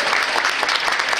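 Loud, dense audience applause at a regional dance competition in Brittany, steady continuous clapping from a close crowd filling the whole moment.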